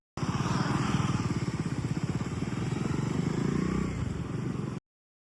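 A motorcycle engine runs steadily and close by near the beach at Varkala, a continuous pulsing drone that holds for almost five seconds and then cuts off abruptly.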